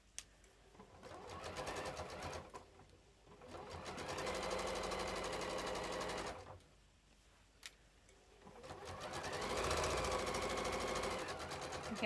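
A sewing machine stitches a fabric project bag in bursts, a fast rattling run of needle strokes that stops twice for brief pauses before starting again, moderately close.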